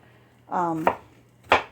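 A kitchen knife chops two garlic cloves on a board while tomato soup is being prepared. Two sharp, close chops land about half a second apart, with a brief tonal squeak just before the first.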